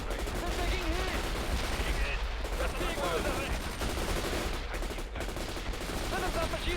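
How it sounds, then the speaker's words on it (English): Sustained machine-gun bursts rattle through a dense battle soundscape in the video game World in Conflict, loud and continuous with layered gunfire and explosions throughout. "Fires a machine gun."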